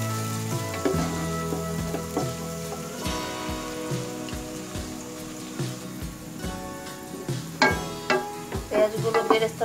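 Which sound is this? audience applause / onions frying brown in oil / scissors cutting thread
onions frying brown in oil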